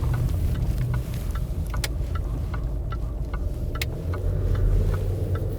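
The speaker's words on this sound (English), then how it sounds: "This is what it's like driving a Range Rover." A Range Rover drives along a road, its engine and tyres giving a steady low rumble inside the cabin, with faint clicks and no talking.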